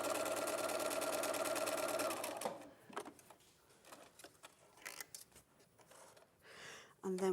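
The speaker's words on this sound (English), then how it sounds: "So again, we're sewing either side of that drawn line." Sewing machine stitching either side of a drawn line, a fast steady whirring run for about two seconds that then stops, followed by quiet handling clicks and rustles and a brief burst at the end.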